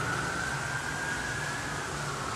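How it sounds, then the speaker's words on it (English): An ambulance siren passes outside, a steady loud wail sustained throughout with a constant tone, heard continuously over background noise without speech. "We have a siren going by too, and it's an ambulance"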